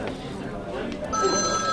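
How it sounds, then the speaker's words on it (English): A telephone begins ringing partway through with a steady electronic trill in a broadcast booth at a boys' soccer final, sounding under ongoing talk from nearby voices. "there's my phone, Galvin."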